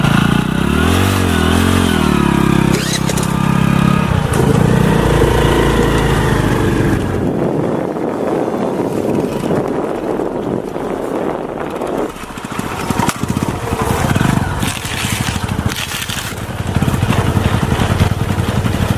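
A motorcycle engine running on calcium carbide roars loudly and continuously, with uneven sputtering, revving and a rough, strained tone throughout.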